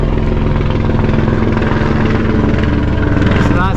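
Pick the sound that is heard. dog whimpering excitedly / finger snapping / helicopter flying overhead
helicopter flying overhead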